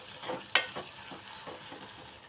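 Cucumber curry sizzles and simmers in a pan while being stirred, with one sharp spatula scrape early on and then a steady low frying hiss.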